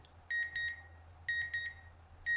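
A device timer beeps in repeated bursts of several quick electronic tones, three groups spaced about a second apart, close and clear over a low steady hum with no talking.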